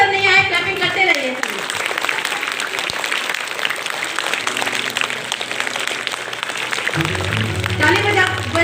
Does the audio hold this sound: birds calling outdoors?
no